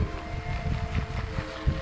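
Strong wind rumbles and buffets the microphone in low gusts in a rice paddy field during winnowing, with no voices.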